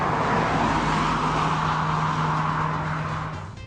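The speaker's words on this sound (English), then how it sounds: "So now we're driving the Jetta GLI" Steady engine drone and tyre roar from a Volkswagen Jetta GLI with a six-speed DSG dual-clutch transmission cruising on the road, heard from inside the cabin at an even, loud level that eases off at the very end.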